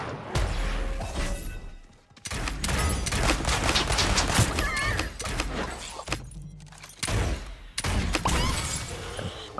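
Gunfire in the battle royale game Realm Royale Reforged: dense, loud bursts of shots and crashing effects fill nearly the whole stretch, with two brief drops, no one speaking.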